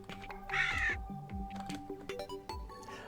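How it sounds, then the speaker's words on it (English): Raven-like cawing screams when the player takes damage in the game Terraria, a couple of harsh cries mixed with game music and effects, fairly faint. "it just makes me scream like a raven when I take damage"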